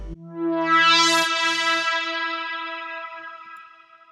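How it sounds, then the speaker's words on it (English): A single rich synth tone with a bright, noisy filter sweep rising then falling, fading out over a few seconds, no voices. "The other sweep that I have in here is the one that comes right before the chorus"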